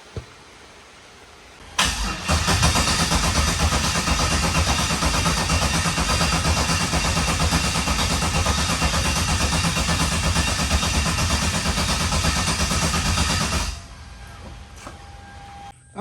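A Hyundai Genesis engine that has been hard to get running cranks and catches after a quiet start, then runs loud and steady for about twelve seconds as it tries to idle, before shutting off into near silence.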